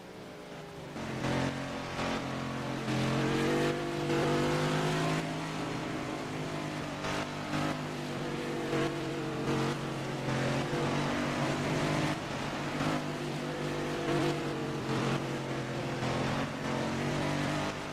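Race cars following the pace car at Watkins Glen make a steady, droning engine hum with shifting pitch, holding constant loudness with no sharp passes.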